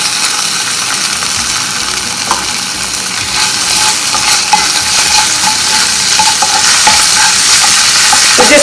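Crushed ginger and garlic frying in hot coconut oil for a Kerala prawn roast, a steady loud sizzle with occasional stirring clicks and spatters, continuous throughout with no talking.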